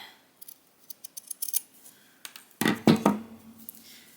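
Scissors cut fabric: a scatter of small, quiet snips and taps, then a few louder, closer crunching cuts near the end.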